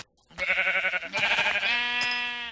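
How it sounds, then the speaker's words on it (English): Sheep in the Minecraft video game bleat in a few close, loud, wavering calls one after another, with a brief pause between them and no talk. "Come here, sheepy."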